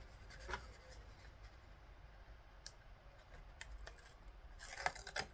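A cutting machine's blade slices through card while personalised cards are made, leaving faint, close scratchy scraping and a few light clicks, quiet overall with a brief louder rasp near the end.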